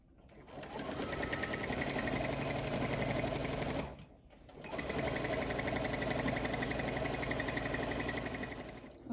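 A domestic sewing machine stitches a Minky quilt in a steady, loud, whirring run for about four seconds. It pauses briefly, then starts again for another long continuous stretch.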